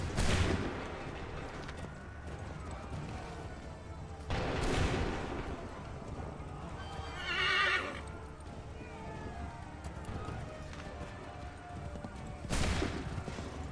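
Musket volleys fired on command in Assassin's Creed 3 Remastered, several sharp broad cracks a few seconds apart. Each crack decays into noise, with horse sounds and battlefield ambience between the shots.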